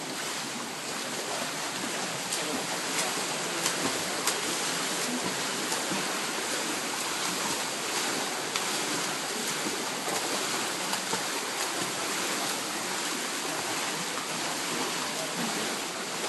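A swimmer doing arm strokes in an indoor swimming pool at QUT, a steady broadband wash of splashing water and echoing pool noise that runs continuously for the whole stretch with no talking.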